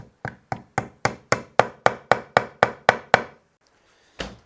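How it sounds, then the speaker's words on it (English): A tiny hammer taps twelve quick, even strikes in a steady rhythm while setting pieces into glue on a custom guitar build, then pauses before one final tap, close and clear. "Sometimes I'll put a blob of glue in there and tap them in."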